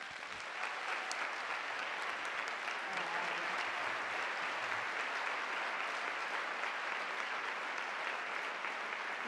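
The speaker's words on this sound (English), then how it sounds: "a final word of applause for our 2016 Women's Wellness Honorees." Audience applause for the 2016 Women's Wellness Honorees fills a hall in sustained, dense clapping, steady and fairly even throughout.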